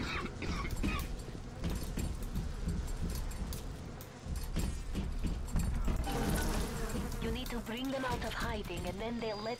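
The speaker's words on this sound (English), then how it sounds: "Oh no, my bees!" Swarm of bees from the BioShock video game, a buzzing drone under a player's talking and game sounds, with a rising, warbling insect whine in the second half.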